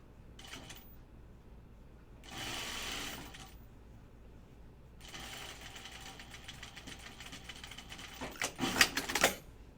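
A sewing machine stitches down gathers on a dress, running in short bursts, then a longer steady whir that rises into a louder, faster stretch near the end, with no talking.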